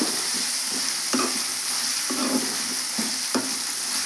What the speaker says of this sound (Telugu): కొంచెం ఆయిల్లో బాగా ఫ్రై అయిన తర్వాత ప్రాసెస్ చూద్దామండి